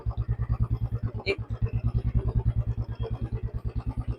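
A motorcycle engine idles nearby with a rapid, steady chugging putter throughout.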